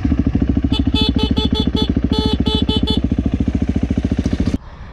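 A motorcycle engine runs close and loud in a steady pulsing drone, with bursts of a repeated horn honk in the middle, cutting off abruptly near the end.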